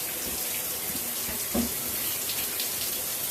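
Water streams steadily from a Peerless in2ition 2-in-1 shower head, a constant close hiss of spray without pause.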